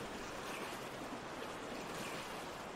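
Flowing water rushes steadily in the video game Resident Evil 3 Remake, a faint, even broadband wash of water with no other sounds or talking.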